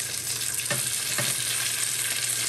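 Pork belly pieces of varying thickness fry in a hot pan, a steady bright sizzle filling the space with a couple of soft scraping stirs partway through, no voices.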